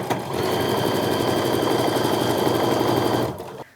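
A sewing machine stitching a seam on a modern quilt made from big prints, running as a loud, steady, close mechanical whir for about three seconds before stopping abruptly.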